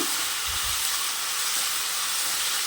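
Continuous bright sizzling of blanched broccoli frying in a hot pan, a steady crackling hiss with faint low thumps near the start.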